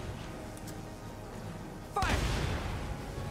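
A sudden loud burst of gunfire from the video game Valkyria Chronicles 4 cracks out midway, breaking a quieter background and ringing on afterward.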